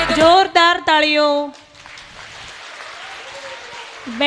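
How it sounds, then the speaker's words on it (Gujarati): At a school International Day of Yoga event, a crowd breaks into sustained clapping right after a sung passage ends, the applause continuing at a steady level to the close. "જોરદાર તાળીઓ"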